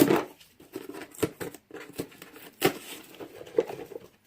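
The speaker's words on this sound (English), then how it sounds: "these boxes are so hard to open" Cardboard subscription box being torn and wrenched open in short bursts of ripping and crinkling, close by, with pauses between pulls.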